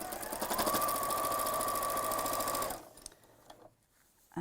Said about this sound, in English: I'm going to sew again from the side where I can see the stitches.